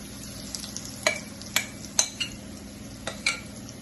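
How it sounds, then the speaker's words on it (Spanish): Malanga fritters frying in hot oil, a steady close sizzle broken by a few sharp pops and clinks of a utensil against the pan, with no talk. "Ya la dejamos ahí que se fría esa cantidad."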